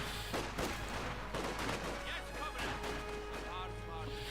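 Battle gunfire from Company of Heroes 2, Soviet conscripts against German grenadiers and pioneers: rapid, distant-sounding rifle and submachine-gun shots crackle in scattered bursts under a continuous low rumble.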